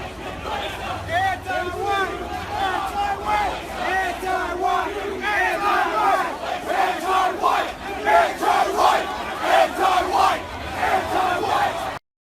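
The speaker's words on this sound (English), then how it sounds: "listen to what these demonstrators are chanting" Demonstrators chant together in a loud, dense crowd of raised voices, rhythmic shouting rolling on steadily for about twelve seconds before cutting off abruptly.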